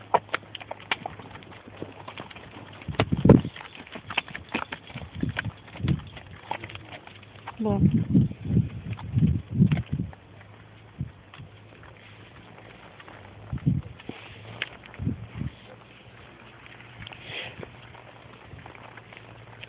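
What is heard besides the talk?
horse hooves clip-clopping during a ride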